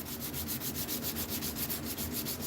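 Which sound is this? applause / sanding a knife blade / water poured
sanding a knife blade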